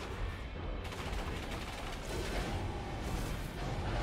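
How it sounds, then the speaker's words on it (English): Gatling laser firing in Risk of Rain 2, a dense, continuous rapid stream of shots under loud game noise, sustained for several seconds without a break. "Use your Gatling laser."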